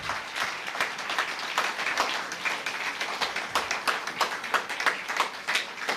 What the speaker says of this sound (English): Continue clapping, continue clapping.